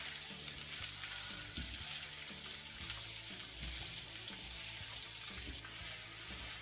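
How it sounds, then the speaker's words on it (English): Cumin and mustard seeds fry in sunflower oil in a pan, giving a steady loud sizzle throughout with scattered sharp pops and crackles as the seeds burst. "Got cumin seeds and mustard seeds. Fry them off for about a minute until they sort of crack really."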